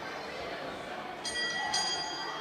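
A ring bell struck twice at a professional wrestling show opening a cruiserweight match, two bright metallic clangs over steady arena crowd noise.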